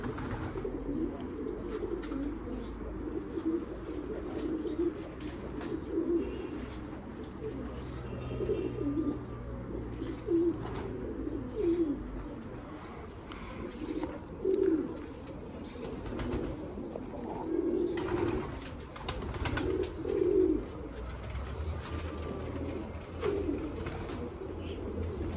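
Racing pigeons coo steadily in a loft, soft repeated throaty calls over a continuous bed of bird chatter with occasional wing flaps, close and moderately loud, with no talking.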